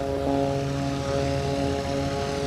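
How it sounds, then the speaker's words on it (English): An all-composite Window World MX2 aerobatic propeller plane flies overhead during an air show, giving a steady droning engine and propeller tone with clear harmonic hum, moderately loud and constant. "the all-composite Window World MX2, which he is flying for you today"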